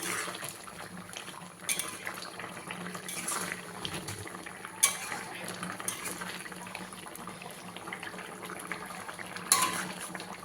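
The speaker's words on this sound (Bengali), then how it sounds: "এ ধনে পাতা কুচিগুলো দিয়ে দেবো এবার নাড়াচাড়া করে দেবো" Spoon scraping and clinking in a pan as egg omelette curry is stirred with chopped coriander, steady simmering bubble underneath and occasional sharper metal knocks, close and moderately quiet throughout.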